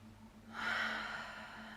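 A single slow, deep breath drawn in through the nose during a yoga session, close and soft, rising into a breathy hiss over a steady low hum.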